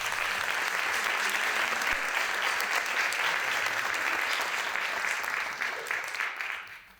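Audience applause for David Delfín at an inaugural carnival lecture in Málaga, a continuous even wash of many hands clapping that dies away over the last second.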